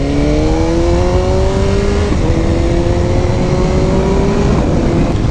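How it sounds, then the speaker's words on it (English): BMW S1000RR sport motorcycle fitted with an Akrapovic exhaust, riding at speed with a steady loud engine drone and rising whine, constant roar throughout with no talk. "The bike sounds great, it feels great."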